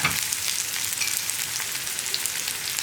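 Onions and curry leaves sautéing in a pan while chopped long beans and jackfruit seeds are cooked into a stir-fry. A constant bright sizzle with a faint crackle holds steady throughout, close and uninterrupted.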